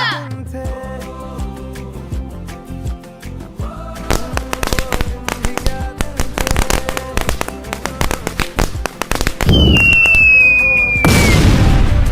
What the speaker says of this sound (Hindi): अबे वो रॉकेट तो खड़ूस आंटी के यहाँ जाके फूट गया।